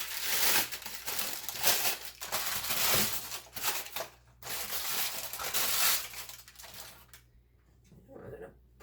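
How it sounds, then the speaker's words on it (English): Parchment paper crumpled and pressed into a roughly 8 by 11 inch baking pan in a home kitchen, giving dense, close crinkling and crushing bursts that run for several seconds before trailing off into quiet. "Crumple up your parchment paper so it stays in there."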